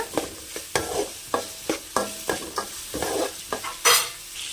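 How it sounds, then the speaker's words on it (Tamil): Onions and tomatoes sauté in a pan for mint chutney, loud close stirring strokes scraping at a steady beat over an ongoing sizzle, with one sharper clatter near the end. "வெங்காயம் தக்காளி நல்லா வதங்கிக்கிட்டு இருக்கு"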